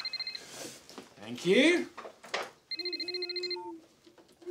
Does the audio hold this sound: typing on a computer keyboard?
no